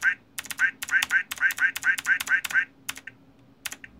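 Pressing the keys of a keyboard that makes duck sounds sets off about a dozen rapid, nasal quacks in a quick run, each paired with a key click, then a few scattered clicks close up.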